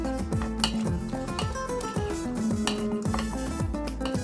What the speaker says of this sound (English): a muddler that has some little ridges to it so we can really break up the fruit there